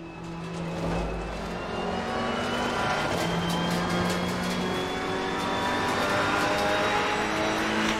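A Ferrari race car engine drones steadily in Assetto Corsa Competizione at Brands Hatch, a sustained high-revving tone with rising pitch sweeps through gear changes over several seconds, close and continuous.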